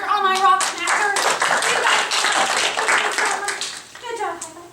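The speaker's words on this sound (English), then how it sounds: "Round of applause for all my rock smackers." Children in a classroom give a round of applause, a dense burst of many small hands clapping close by, mixed with children's excited chatter and voices, then fading near the end as a few voices carry on.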